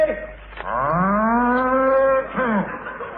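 A bull lets out one long, loud, drawn-out moo close by, as an old-time radio comedy sound effect, sliding up and then down in pitch and lasting nearly two seconds.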